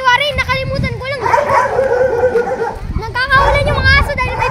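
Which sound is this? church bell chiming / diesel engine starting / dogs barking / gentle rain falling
dogs barking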